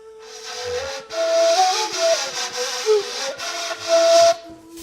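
An unlacquered Bashkir kurai reed flute is played with a dull, breathy tone, its wavering melody shifting pitch over steady airy hiss for several seconds, close and with no voices.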